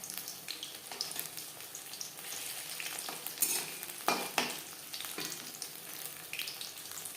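Paneer pieces sizzle and crackle steadily in hot oil in a kadai over a medium flame, a dense continuous frying hiss with a few louder spits, close up and without voices.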